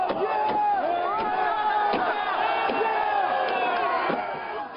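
A crowd at a chaotic street protest shouts and cheers in a continuous loud din, with sharp repeated bangs of a police car being smashed breaking through the roar.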